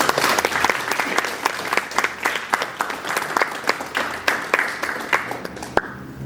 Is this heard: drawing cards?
no